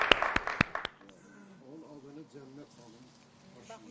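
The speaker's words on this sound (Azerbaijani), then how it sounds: "Alqışlayırıq sizi." Film crew clapping briefly at a series shoot, a few sharp claps in the first second, followed by someone speaking on his own.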